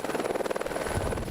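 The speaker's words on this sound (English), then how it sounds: "getting out of the helicopter is important because obviously these rotors are a lethal weapon" A helicopter on a heli-skiing trip, its rotor blades beating in a fast steady thump with a buzzing engine whine, close and continuous, no voices.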